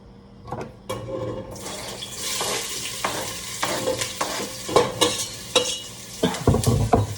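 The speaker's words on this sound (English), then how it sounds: "make sure you keep an eye on it with your spoon, stir it around" Food frying in a pot as a spoon stirs it, with uneven scraping knocks and bursts of wet sizzle that grow busier and louder toward the end, heard close with no voices.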